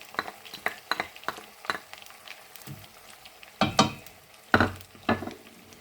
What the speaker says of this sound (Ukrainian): Додаємо чесночку.